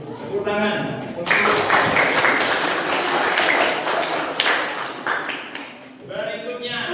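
Audience applause at a school group presentation, a sustained burst of clapping rising after a brief voice and lasting several seconds before tapering, with talk returning at the end.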